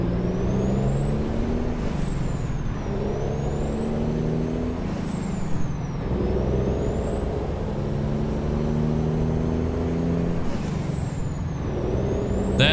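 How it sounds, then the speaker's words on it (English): A straight-piped X15 semi-truck engine in American Truck Simulator rises and falls in pitch through repeated gear changes, with loud air brake hisses between the pulls; steady, close and with no talking. "That straight pipe X15 sounds pretty good too, right?"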